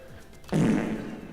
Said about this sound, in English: Nice little fart sound effect because my sound, I forgot about the soundboard